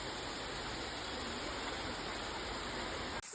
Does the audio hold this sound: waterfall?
yes